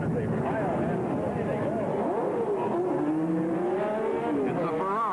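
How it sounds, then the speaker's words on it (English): Field of race cars getting away at the start of the 1966 Sebring 12 Hours, engines revving and rising in pitch as they accelerate, heard under continuous commentary. "It's a Ferrari, first away. Gurney appears to be stalled, the rest of the field racing away."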